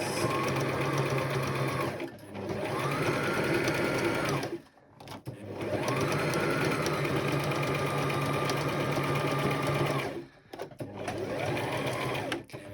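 A sewing machine stitches across a Christmas stocking in long steady runs of rapid, even whirring, close and loud, broken by three brief pauses.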